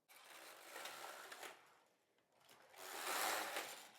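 A Passap Duomatic 80 knitting machine knits two rows, producing two close, whooshing carriage passes, a brief lull between them, with the second pass louder.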